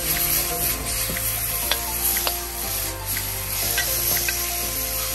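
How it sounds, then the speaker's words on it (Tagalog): Pork sizzling steadily as it is stir-fried in a hot pan for Korean-style bulgogi, a loud continuous close frying hiss with occasional scrapes and clinks of stirring, no voices. "I-stir fry lang natin itong ating pork hanggang mag-golden brown ang color nitong ating"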